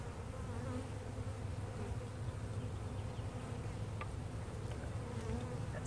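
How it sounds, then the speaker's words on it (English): Bees at a very large hive buzz in a dense, steady drone that stays even throughout, close and without voices. "The bees."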